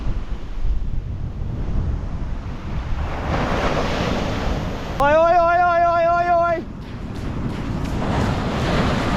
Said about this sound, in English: Big swell. Big waves are coming up here.